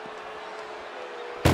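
A metal ambulance door slams loud and sudden at the very end of a short stretch of low background noise during a WWE 2K24 wrestling ambulance match.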